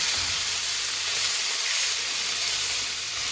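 Pork frying in a pan gives a loud, steady sizzle and hiss, a continuous close crackle with no talking over it.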